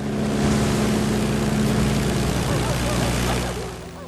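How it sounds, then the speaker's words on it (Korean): A propeller airplane takes off in Antarctica, its engine droning loud and steady with a deep rumble, close by and holding level before easing slightly at the end. "결국 제리가 비행기에 몸을 실자 비행기는 이륙하기 시작합니다"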